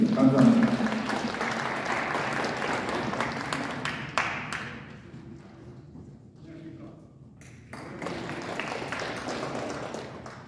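Audience applause welcoming a speaker at an emergency public declaration gathering over a presidential impeachment motion: dense clapping for about four seconds, then fading into a quieter room where voices talk and some scattered clapping returns near the end.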